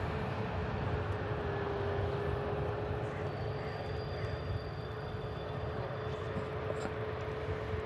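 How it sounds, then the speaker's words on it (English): Qatar Airways airliner climbing steeply away, a broad continuous jet roar that holds steady and distant throughout, with a faint thin whine riding above it. "Oh, the steep climb from the Qatar"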